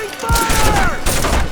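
Rapid, loud gunfire from a PS2 war game running on the PCSX2 emulator, bursts rattling continuously through a short stretch alongside a faint tonal whine.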